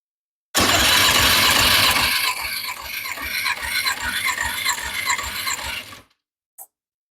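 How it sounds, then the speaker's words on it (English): Car engine cranking over on the starter, a loud, close rhythmic whirring that runs for several seconds, then stops abruptly, followed by a brief faint click. "Now I'm going to just crank it."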